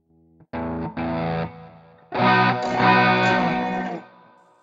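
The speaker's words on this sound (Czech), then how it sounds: "Takhle mi jde ten distortion." An electric guitar with overdrive distortion, run through a Black 2X tube preamp, plays two sustained chords, then a longer ringing chord with picked notes after a short pause, clean and close.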